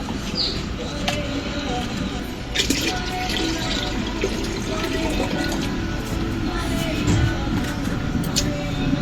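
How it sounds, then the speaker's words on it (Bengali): Lentils being washed in water, with steady splashing and running-water wash throughout, fairly close, and birds cooing faintly in the background. "ডালগুলা ধুয়ে দিই।"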